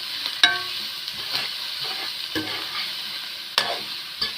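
Onion masala for a Kerala-style egg roast being stirred in a pan, with a soft continuous sizzle broken by several sharp scraping strokes of the spoon against the metal, close and fairly quiet, with no talking.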